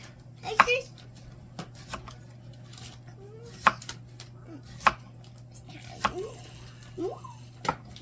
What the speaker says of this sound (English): so we're going to do thin slices of cucumbers